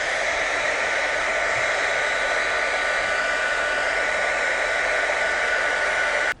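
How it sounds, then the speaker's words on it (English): A hair dryer blows a steady, loud, continuous rush of air to heat and soften a warped magnetic wall piece, running alone with no talk before cutting off abruptly at the end. "If you have a cool setting on your hair dryer, you can set it to cool and just blow on this thing"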